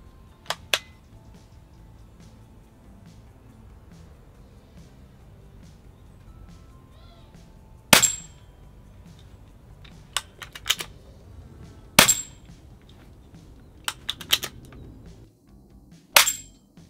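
Weihrauch HW70A air pistol firing pellets at a spinner target, several sharp isolated cracks spaced a couple of seconds apart with faint ringing hits, over a quiet background.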